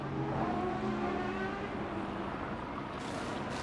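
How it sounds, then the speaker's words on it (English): A GT race car rumbles through the final corner during a Blancpain Sprint Series qualifying session in Moscow, its engine a steady, fairly distant drone held throughout, with no voices. "Rumbling down into the final corner is Alexei Vasiliev"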